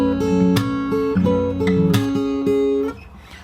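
Fingerstyle acoustic guitar plays the first bar of a song's pre-chorus: plucked bass notes and melody in a syncopated pattern, close and clear, ringing briefly before stopping; no voices.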